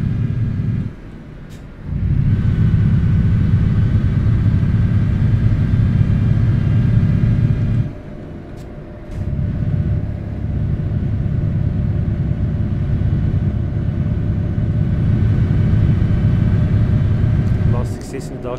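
A heavy Scania Topline truck engine in Euro Truck Simulator 2 roars in a steady low rumble, briefly dropping off twice before surging back, with a voice talking now and then over it.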